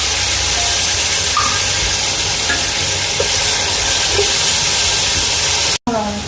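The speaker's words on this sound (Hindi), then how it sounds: "इसमें लहसुन अदरक डाल देंगे," Garlic and ginger sizzle steadily as they fry in a pot for pulao biryani, a continuous close, loud hiss with small pops, ending in a brief break and a faint clatter.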